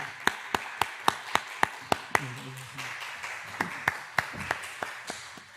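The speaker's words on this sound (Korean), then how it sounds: "우리 나오실 때 현장에서 또 온라인에서 크게 환영의 박수 부탁합니다." A seminar audience gives a welcoming round of applause: sparse, distinct claps in a steady rhythm, moderately quiet, with a faint murmur underneath.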